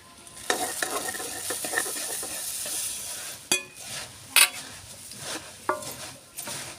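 Puffed rice being stirred into thick jaggery syrup in a pot for homemade laddoos: a soft rustling, scraping churn with a few sharper clinks of spoon against the pan, heard up close with no talking.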